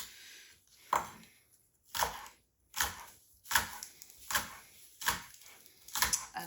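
A knife cutting celery on a board for buffalo chicken salad, about seven crisp separate chops spaced roughly a second apart, close and clear with quiet pauses between.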